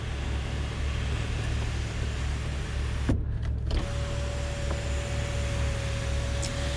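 Power moonroof motor on a 2009 BMW 335i running in one steady, smooth electric whine for a few seconds, close and clear over a constant low hum, with a short pause partway through.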